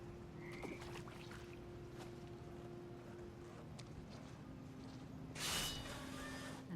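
Toads croak in a dark, damp setting in What Remains of Edith Finch, low repeated croaks under a faint ambient drone, with a brief hiss of wind or water near the end.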